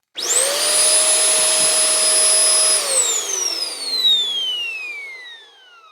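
A curb-found Shark NV750 upright vacuum cleaner switches on and spins up to a loud, piercing whine, holds steady, then winds down as the motor is shut off, with no talk.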